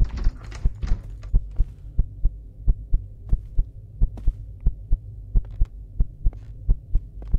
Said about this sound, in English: Look at my heart pounding.